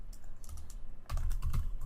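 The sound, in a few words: typing a delete command on a computer keyboard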